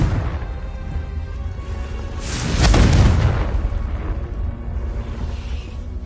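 A Confringo spell blast in Hogwarts Legacy: a single booming explosion with a whooshing rush that swells and fades over ambient game sound, no voices.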